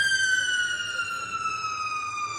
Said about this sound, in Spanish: Por eso suenan las sirenas, para recordar aquel momento